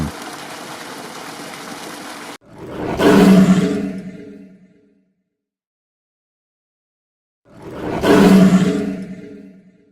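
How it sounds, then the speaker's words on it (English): A lion gives two loud, deep roars a few seconds apart with silence between, preceded by a short stretch of flowing water-like noise. "Lion."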